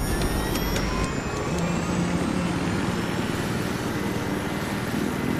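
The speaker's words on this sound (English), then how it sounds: "Oh, we got you guys a chopper." Helicopter in the Battlefield 3 video game, a steady droning engine and rotor roar holding at an even loudness throughout, with no talk over it.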